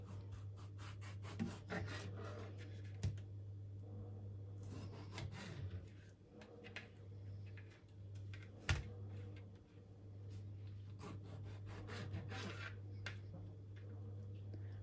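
A knife slices a tomato into quarters, giving soft, close rubbing and cutting strokes with a few sharp taps on the board, under a steady low hum.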